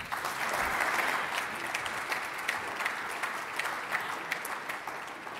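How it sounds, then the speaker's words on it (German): Audience at a health-sector conference forum in Baden-Württemberg applauding, a steady, fairly distant wash of many clapping hands sustained evenly throughout. "Ihr Applaus nochmal."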